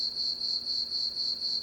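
Steady crickets chirp in a continuous high-pitched trill, loud and unbroken throughout, with no voices or other sounds.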